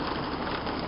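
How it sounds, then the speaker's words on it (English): Quarter-size hail falls outdoors in a dense, steady hiss of pattering impacts, close and continuous with no pauses, through a brief moment. "Hail. Real hail."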